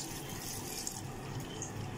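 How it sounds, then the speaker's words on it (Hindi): Water pours into a pressure cooker holding beef biryani with tomatoes, a soft, steady trickle that stays faint from start to finish. "और 1 कप जो है ना पानी डालेंगे।"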